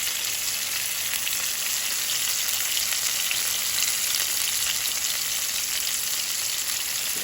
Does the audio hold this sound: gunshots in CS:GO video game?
no